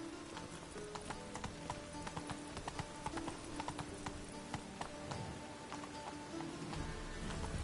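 Roach, the horse in The Witcher 3, galloping with a rapid, driving clip-clop of hooves over a dense game soundscape, steady and close throughout with no talk.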